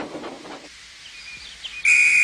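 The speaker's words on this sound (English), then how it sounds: "that's my conductor's whistle." Soft ambient noise gives way to a sudden, loud, shrill train conductor's whistle blast that holds steady at the end.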